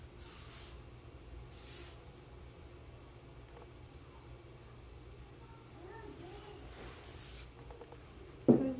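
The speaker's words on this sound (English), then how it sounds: "I'm just going to spray back." Short bursts of hair spray hiss from an aerosol can, a few separate sprays at close range, with quiet rustling between them and a louder bump at the end.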